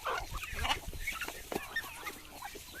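Chickens and newly hatched chicks on a Filipino backyard farm cluck and peep in a steady, busy chorus, close by and with no other sounds standing out.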